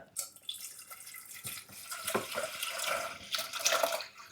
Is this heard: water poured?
yes